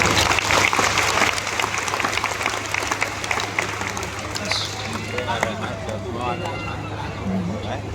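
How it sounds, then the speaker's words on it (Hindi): Loud applause from a large crowd at a Hindu religious congregation (divya darbar) in Hyderabad, a dense, sustained clapping wash over crowd murmur, fading slightly after the first seconds. "दरबार के मध्य में जोरदार ताली बजा करके"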